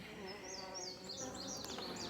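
Honeybees buzz steadily around an open hive during an inspection while frames are moved, a dense close drone with a few higher passing tones.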